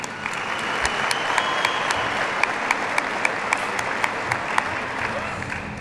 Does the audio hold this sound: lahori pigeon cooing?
no